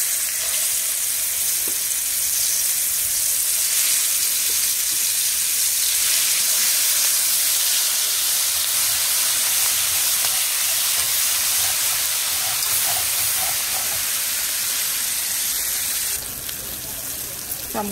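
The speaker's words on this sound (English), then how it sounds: "I'm going to start by adding the curry paste into this hot oil." Steady, loud sizzling of paste frying in hot oil, a continuous hiss that holds throughout and eases slightly near the end.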